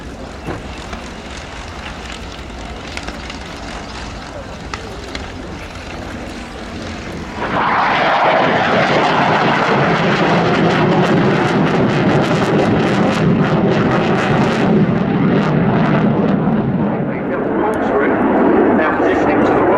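Jet fighter flying display maneuvers at the Royal International Air Tattoo air show, a distant engine rumble under a commentator's voice that swells abruptly into a loud, sustained roaring rush as the aircraft accelerates past.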